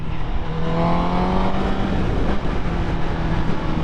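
Honda CBR1000RR sport motorcycle engine revving hard while riding, loud and close with rising harmonic whine over wind noise for a few seconds, no talk.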